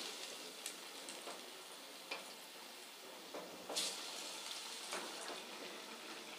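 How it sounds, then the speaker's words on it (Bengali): Bread-crumbed chicken rolls frying in medium-hot oil in a kadai over a medium flame, giving a steady, even sizzle with occasional small pops and crackles throughout, no voices. "এবার এগুলোকে ভেজে নেব।"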